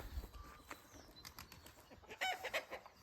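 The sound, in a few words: chickens on a farm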